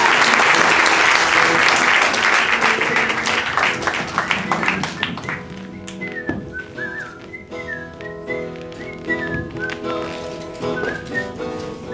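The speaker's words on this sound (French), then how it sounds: "on applaudit Juliette" Loud audience applause at an improv comedy festival, dense clapping mixed with whistles and cheers, fading after several seconds into scattered claps and continued whistling.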